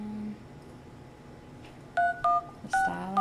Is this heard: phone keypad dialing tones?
yes